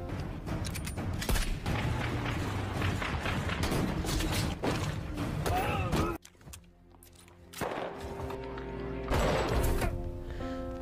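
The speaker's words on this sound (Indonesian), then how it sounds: "Adu tembak pun terus terjadi dengan kondisi musuh yang sangat berbanding jauh." Gunfire and explosions in a war action film's firefight, dense bursts of shots and booms for about six seconds, a brief lull, then more blasts and firing.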